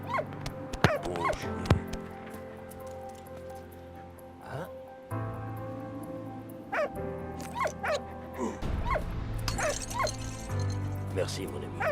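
A dog in the video game Valiant Hearts barks and yips repeatedly in short bursts, with some whimpering, close and loud over game music while a person talks throughout.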